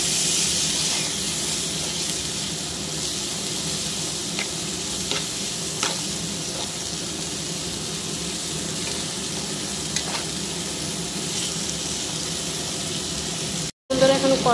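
Boiled chickpeas tipped into hot frying garam masala in a home kitchen, a steady loud sizzle with stirring scrapes throughout, ending in a brief clatter.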